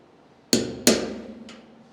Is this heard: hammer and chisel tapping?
yes